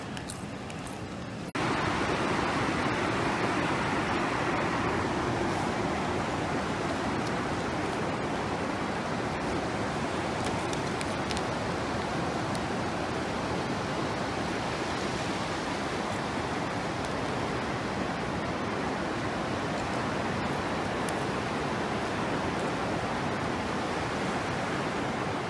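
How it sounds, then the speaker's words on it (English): Ocean waves roll steadily onto a quiet beach, a continuous broadband wash of surf that stays loud and close throughout, with no voices over it. "Show you guys the waves now."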